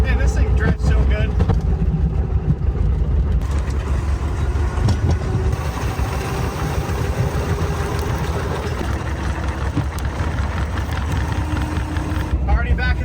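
A homemade micro camper rolls along abandoned railroad tracks, its engine droning steadily and loud with rumbling wheels and clatter, a voice talking over it at times.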